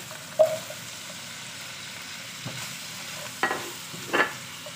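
Vegetables for ginataang gulay in a pan, stirred over a steady sizzle of frying, with a few louder scraping clunks of a utensil against the pan, close by and with no talking.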